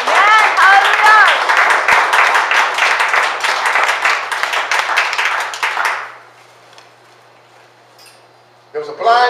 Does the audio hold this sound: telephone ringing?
no